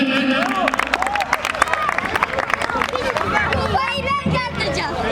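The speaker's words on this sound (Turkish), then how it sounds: "Turnuvamızda üçüncü olan Hacı Pınar Süper'e bir alkış" Crowd clapping and cheering for the third-place team at a five-a-side football tournament awards ceremony, loud and continuous, mixed with babbling voices and shouts throughout.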